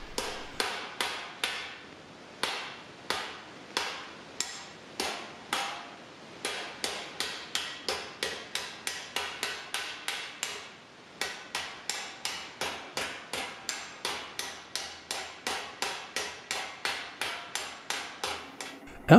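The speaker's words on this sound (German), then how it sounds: "Während des Führens des Hammers zwischen den Treibschlägen ist ein leichtes Schwingen und eine Kreisbewegung in dem Hammer." Steady, rhythmic hammer blows ring out as sheet metal dents are beaten out, sharp metallic strikes repeating at a brisk, even pace, close and clear with no talk.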